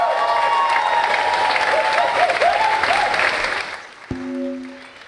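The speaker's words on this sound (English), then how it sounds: "Let's give Swift a huge round of applause." Audience applause and cheering at a hackathon conference, a loud, dense burst of clapping with some whoops from the crowd that tapers off after about four seconds, followed by a brief tonal beep.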